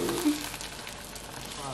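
An omelette sizzling in a frying pan as it is flipped, a steady close hiss with a brief thud of the flip near the start, and a voice speaking over it.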